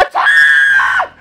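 A person lets out a single loud, sustained scream lasting about a second, sharp and close, rising quickly and then cutting off.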